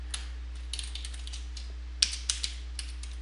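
Computer keyboard typing, a sparse handful of soft, close key taps over a steady low hum, with no voices.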